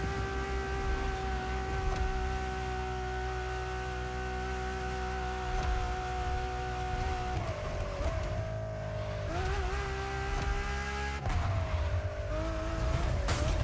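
An Enzo Ferrari in The Crew Motorfest drives at high revs, its engine wailing steadily and loudly, with pitch dips at gear changes and brief tire squeal, continuous throughout.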